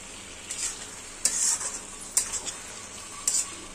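Chicken pieces frying and being stirred in a pan, a steady sizzle broken by a few sharp scraping stirs, close and moderately loud with no talking.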